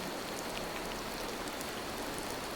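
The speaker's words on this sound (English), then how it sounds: "Wonder if I'll ever get used to all this rain." Steady, even rainfall in the video game Disney Dreamlight Valley patters across surfaces, a dense continuous hiss with scattered droplets, no voices.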